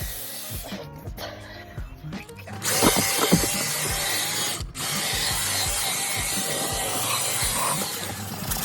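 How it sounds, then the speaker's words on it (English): A rotating drill brush scrubs and fluffs the fibers of car carpet, giving a rough, close mechanical whirring and scratching that starts with scattered knocks and then settles into a sustained loud scrub with one brief pause. "a drill brush is a great kind of intermediary way to fluff the carpet fibers, lift dirt up to the surface"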